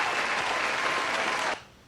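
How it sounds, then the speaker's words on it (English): A short, dense round of applause, like a crowd clapping on a podcast, lasts about a second and a half and then cuts off sharply. "let me give a round of applause"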